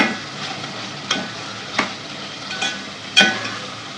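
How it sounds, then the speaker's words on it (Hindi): Chicken pieces being stir-fried and browned for a degi chicken korma, with a steady sizzle and a few distinct scraping strokes of a spoon against the pot, about four of them spaced roughly a second apart, close and fairly loud. "चिकन डालने के बाद 5 से 7 मिनट तक उसको भूनेंगे"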